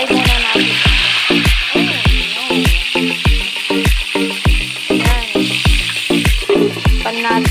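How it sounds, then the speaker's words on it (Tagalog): Tilapia frying in hot oil, a loud continuous sizzle broken by dense, rapid popping and crackling spatters that repeat steadily throughout, close up and without talk. "So, i-fry muna natin."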